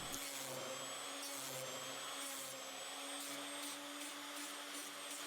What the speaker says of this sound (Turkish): Bant sımpardan müdahale edemediğim dar yerlere kalıpçı motorla giriyorum.